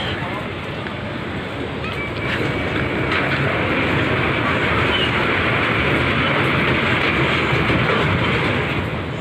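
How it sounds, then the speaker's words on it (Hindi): A large train rumbles past close by in an outdoor park, a steady broadband roar with faint clattering that swells after the first couple of seconds and holds loud throughout, with no talk over it. "नहीं ट्रेन जा रही है बहुत बड़ी।"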